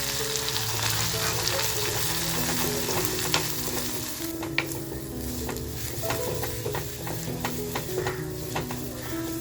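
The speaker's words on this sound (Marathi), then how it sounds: "तो तेलात टाकते आणि लगेचच बघा आपला मसाला आहे तो टाकून हलकासा फ्राय करून घ्यायचा आहे" Homemade masala frying in hot oil for a fish masala dish, a steady close sizzle with frequent stirring scrapes and clinks of a spoon against the pan, continuous throughout with no talking.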